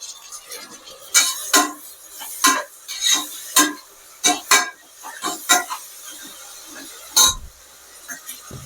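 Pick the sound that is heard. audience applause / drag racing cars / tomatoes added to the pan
tomatoes added to the pan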